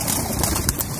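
Pigeons at a pigeon club in Amritsar, including a blue champion pigeon, coo in close, throaty low calls, with a faint flutter mixed in and no speech.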